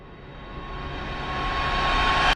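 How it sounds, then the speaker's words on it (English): A reverse riser sound effect: a broad, steady whooshing wash that swells gradually louder over about two seconds, then cuts off abruptly at its peak, heard alone. "reverse riser"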